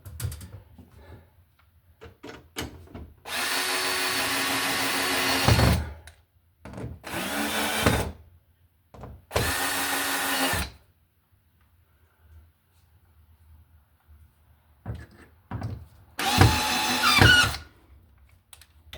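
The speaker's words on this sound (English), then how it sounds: "so we'll just get these screws back in here" A power drill drives screws back into a ceiling light fixture during installation, giving four separate whirring bursts of a few seconds each, separated by quiet pauses, close and fairly clear.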